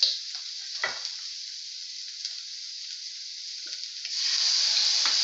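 Capsicum stir-fried with chicken mince and peas in a pan, a steady bright sizzle with occasional soft scrapes of stirring, which grows louder and fuller near the end.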